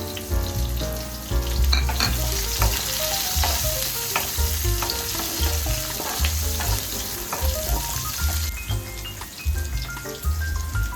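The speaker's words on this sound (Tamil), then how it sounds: "வெங்காயம் நல்லா கொஞ்சம் வதங்கட்டும்" Onion sautéing with curry leaves and green chillies in a pan, a loud, close, continuous sizzle with frequent stirring scrapes and clinks throughout, no talking.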